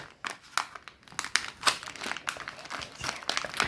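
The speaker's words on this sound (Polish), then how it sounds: "otwieramy to. Jestem ciekawa, co to będzie. Ten papier do pakowania bardzo mi się podoba" Gift wrapping paper being crinkled and torn open at close range, a rapid run of crisp rustling bursts and rips with no talk.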